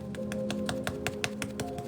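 Makeup sponge dabbed firmly against the face, a steady run of about ten soft, close tapping pats at an even quick rhythm over a low background hum.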